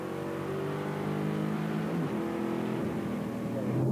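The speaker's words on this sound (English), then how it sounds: "On board with Shane Wigston ready for a hard launch." V8 race car at Eastern Creek making a hard launch, a loud, steady engine roar that rises in pitch as it accelerates away, no talking.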